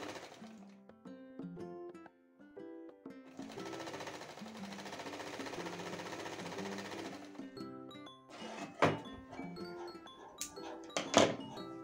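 A sewing machine runs a double line of stitches on a blouse's cup panel, a steady whirring burst of several seconds framed by quieter tones, followed by a few sharp clicks and thunks as the fabric is adjusted.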